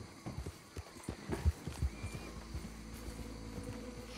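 Horse hooves clip-clop in a quick, uneven gallop rhythm in Red Dead Redemption 2, with sharp thudding strikes in the first two seconds, then a steady low rumble of movement; no clear whinny stands out.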